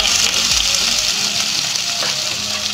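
Onions frying in a pan with mustard seeds and green chillies for a papaya and black-eyed pea curry, giving a steady, close, broadband sizzle that hisses evenly throughout with no talking.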